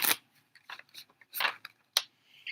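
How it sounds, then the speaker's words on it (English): Tortilla chips being crunched while eating chips and bean dip late at night, a series of sharp, close, irregular crunches and crackles with quiet gaps between bites and no talk. "I got some more chips and bean dip."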